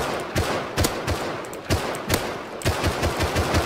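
Rapid bursts of automatic gunfire in the video game Rust, sharp repeated shots in close clusters, loud and alone.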